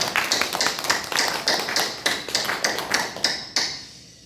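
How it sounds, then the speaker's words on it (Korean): A church congregation claps during a Sunday worship service, a steady run of sharp, roughly even hand claps filling about four seconds before trailing off into room reverberation. "우리 또 하나님께 영광의 박수로 올려드리겠습니다"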